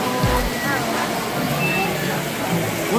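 Steady rushing water from an indoor waterfall at the Rainforest Cafe restaurant, a constant broadband hiss under nearby talking and restaurant chatter.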